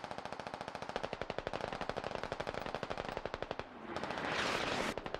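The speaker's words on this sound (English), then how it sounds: "And it looks like Omonos has opened up on Sunset Hellcat." In a military video game, machine gun fire rattles in rapid, steady bursts of evenly spaced shots, followed by a louder rushing blast near the end, with no voices over it.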